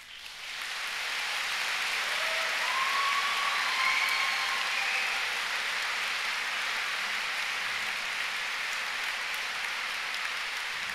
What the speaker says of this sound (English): give you a huge round of applause for teaching staff